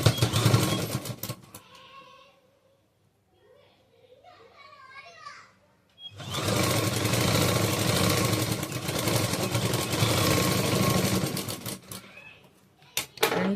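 A sewing machine runs a half-inch seam joining two pieces of churidar fabric cut from a saree. Its loud, steady whirring motor runs for about six seconds after a quieter stretch with someone talking, and a few short bursts follow.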